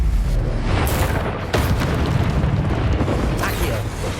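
Confringo fire-blast spell cast in the video game Hogwarts Legacy, a loud booming burst over rumbling in-game sound and music, with a couple of sharp swooshing bursts and a voice speaking over the mix.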